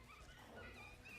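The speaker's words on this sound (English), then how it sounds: "the dog sound in the background with the screaming" Dog whimpering and yipping faintly in the background of an anime episode's soundtrack, a thin canine cry running steadily through the short stretch under other sound.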